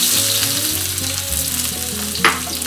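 Chopped shallots frying in smoking-hot oil in a pan for a tofu sambal, a loud close sizzle with spatula stirring and a sharp clatter just past the two-second mark, no talking.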